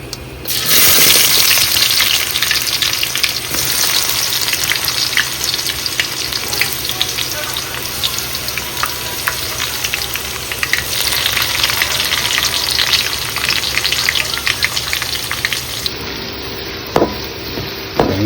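Onions with curry leaves sautéing in a pan for pepper chicken gravy make a loud, dense, continuous sizzle with stirring scrapes, close and without speech.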